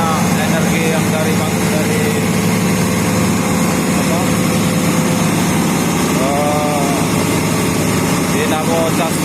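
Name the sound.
Komatsu excavator engine running at full throttle for welding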